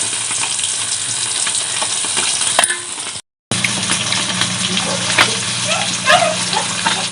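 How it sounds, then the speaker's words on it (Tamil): Fish curry bubbling in a pot over a wood-fired stove, a steady close sizzle and hiss with soft bubbling pops throughout, broken by a brief silent gap. "இப்போதுதான் மீன் அவிஞ்சிட்டு இருக்குது."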